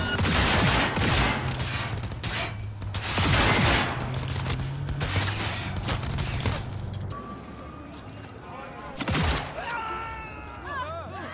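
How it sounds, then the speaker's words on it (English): Sustained bursts of automatic gunfire aimed at police in Cyberpunk 2077, loud and dense with cracks and booms and a few short pauses, ending in a heavy blast and ringing debris. "Let's open fire."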